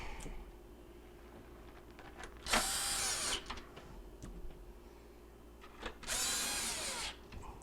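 A power drill drives mounting bolts back in during a GE stove repair, two loud, close whirring bursts of about a second each separated by quieter handling clicks.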